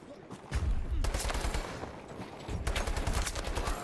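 Rapid automatic gunfire rattles out in two dense bursts from a World War 2 video game, loud and close, each burst lasting a couple of seconds with a short gap between them.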